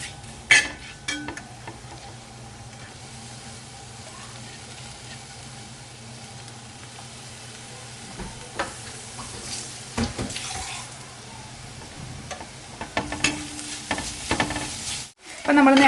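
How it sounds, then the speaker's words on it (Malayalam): Crushed garlic, ginger and green chilli with onions sautéing in a pan for a Kerala-style crab roast, a steady low sizzle with occasional stirring scrapes and clatters, fairly close and with no one talking. "അപ്പം നമ്മൾ നേരത്തെ ഇട്ട് കൊടുത്ത ഇഞ്ചിയും വെളുത്തുള്ളിയൊക്കെ ഒന്ന് വഴഞ്ഞിട്ടുണ്ട്"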